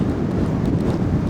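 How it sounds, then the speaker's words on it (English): Strong wind gusting across an Oregon beach, a loud, steady roar buffeting the microphone with blowing sand and no letup. "it is windy as crap"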